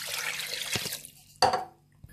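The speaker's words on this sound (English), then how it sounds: "Now we add water." Water splashes and pours briefly into a pot holding cow stomach for pepper soup, then falls quiet, followed by a short louder splash and a single drip near the end.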